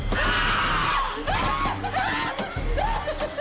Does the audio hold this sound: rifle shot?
no